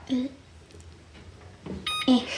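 An oven's timer button gives a short electronic beep, then a pair of bright beeps follow a moment later, with soft voices faintly in the room.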